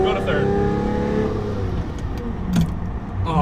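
Lamborghini engine rising in pitch as it revs and shifts up into third gear, loud and steady from inside the car, with people talking over it.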